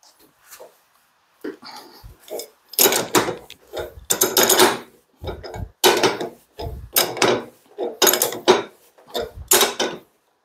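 Monkey wrench tightening a pipe fitting during a practical piping exam, with repeated creaking, grinding strokes coming in a steady rhythm of short bursts, close and fairly loud, separated by brief pauses.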